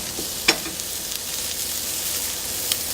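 Meat sears in a hot pan with a steady close sizzle and crackle, briefly punctuated by a couple of light clinks, and no voices.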